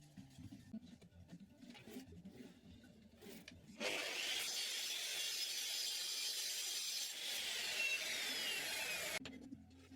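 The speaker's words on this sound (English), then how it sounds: "I'm using an Irwin aluminium blade in the saw, really impressed with it" A saw fitted with an Irwin aluminium blade cuts through aluminium sheet, a loud steady high-pitched whine starting after a few seconds of quieter workshop noise and running for about five seconds before cutting off.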